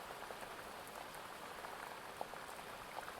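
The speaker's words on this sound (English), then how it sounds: "with the sound of the rain on the windscreen, on the car" Steady rain patters on a car windscreen at night, forming a soft, even hiss of dense drops with occasional louder ticks, quiet and close.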